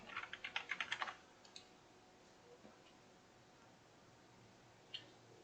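Keys on a computer keyboard pressed in a quick burst of about ten clicks at the start, then a few isolated taps, fairly close and quiet while someone works in a remote server session.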